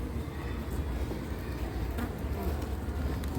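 Honeybees buzzing around hives during a spring inspection of colonies that have swarmed, a dense, steady drone close by that holds level throughout without a break.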